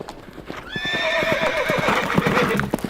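A horse neighs loudly and close, a long wavering whinny, while hooves clatter steadily underneath.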